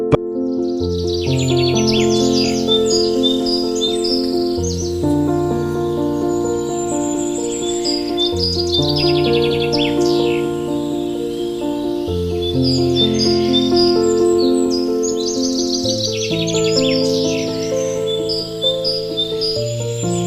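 Tropical forest birds in Colombia sing in a loud, dense chorus, with repeated bright whistled phrases and chirps layered over a sustained tonal backdrop that rises and falls through the stretch.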